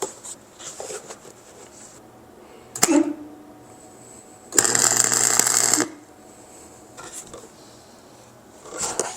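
A Harbor Freight flux core welder lays a short bead, a bright crackling sizzle lasting about a second, set among quieter clicks and handling noises before and after.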